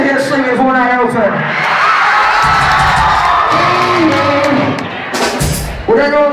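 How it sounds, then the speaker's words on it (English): A live concert crowd roars and cheers for a song, a loud sustained wall of shouting and whooping that swells and holds, with a voice over a microphone at the start and end. "the one that gets the loudest cheer wins"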